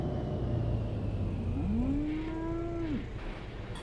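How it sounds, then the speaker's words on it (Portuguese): A cow moos once in Euro Truck Simulator 2, a long rising then falling low call over the steady hum of the truck engine, while driving through Norway. "Eu ouvi um mu."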